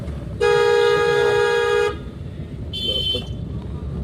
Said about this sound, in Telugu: హార్న్ కొట్టిన హార్న్ కొట్టండి